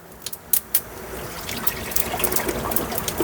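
Liquid poured into a clay pot (chatti) while making a Kerala village-style chicken curry, a few splashy drips at first, then a steady close trickle.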